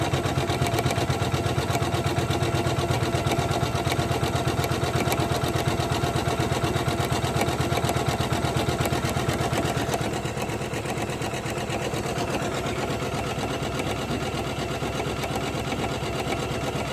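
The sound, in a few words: Janome 500e embroidery machine stitching a Christmas tree ornament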